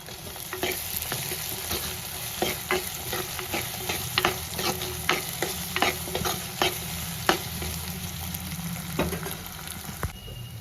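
Onions fry in a pan for a seppankilanku (taro root) kulambu, a steady close sizzle broken by regular scraping stirs of the spatula, with no talk.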